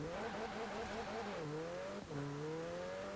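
A McLaren engine in Forza Horizon 4 drones steadily at cruising pace, its pitch dipping slightly as it shifts, then holding a smooth continuous hum without pause.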